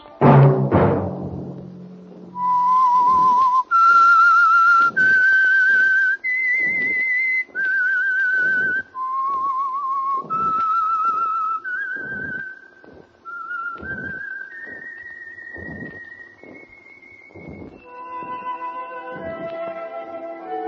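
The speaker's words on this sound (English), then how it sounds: "Let that whistle be your signal" A clear whistled melody of sustained, stepwise notes, loud and steady, played alone for about twenty seconds after a brief low thump at the start.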